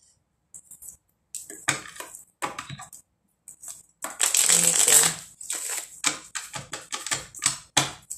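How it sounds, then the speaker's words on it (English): Tarot cards shuffled by hand, with crisp riffling bursts and slaps in irregular clusters, close and fairly loud, with brief pauses between. "I want to pull some cards on this now."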